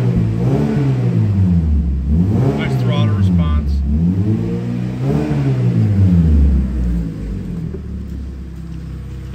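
A 2015 Mazda CX-5 with a 2.5-liter engine and all-wheel drive revs repeatedly. The pitch climbs and falls in several loud, close swells, then settles back toward a steady idle.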